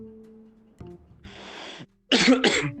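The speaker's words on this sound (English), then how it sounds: "Keep coughing. It's like the 5th time." Several harsh, loud coughs burst out close by after a quiet stretch with a faint low hum, the last two coming in quick succession.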